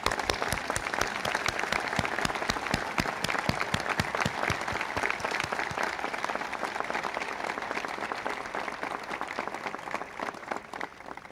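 An audience at the Archives II dedication ceremony gives the building's planning team a big hand. Sharp individual claps stand out at first, then blend into a steady wash of applause that tapers slightly toward the end.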